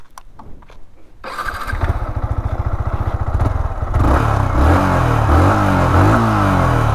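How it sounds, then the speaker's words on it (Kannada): A Yamaha R15 V3 sport bike fires up with a sharp crank and settles into a close, loud idle before blipping into rapid rising revs, its exhaust note building to a raw, sustained roar. "ನೋಡಿ ಇದ್ರ ಎಕ್ಸಾಸ್ಟ್ ನೋಟ್ ತೋರಿಸ್ತೀನಿ."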